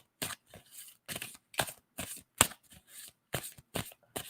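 Tarot cards are shuffled up close in a quick series of crisp riffling bursts, about ten of them in an uneven rhythm with short pauses between.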